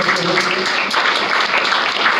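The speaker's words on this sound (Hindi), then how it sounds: "एक बार जोरदार तालियां।" Audience at a business seminar giving loud applause, a continuous dense wash of clapping throughout with a faint voice underneath.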